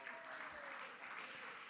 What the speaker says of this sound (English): please give yourselves a round of applause as well.